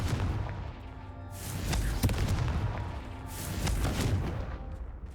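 Fire-blast spell Confringo cast in the video game Hogwarts Legacy, producing a run of loud booming bursts and crackling blasts over a dense, rumbling game soundscape.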